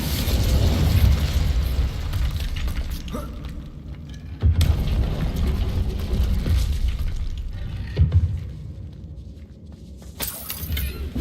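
Incendio fire spell bursts in Hogwarts Legacy, heavy whooshing blasts and crackling booms that flare repeatedly at close range, with sharp impacts punctuating a rumbling low roar between casts.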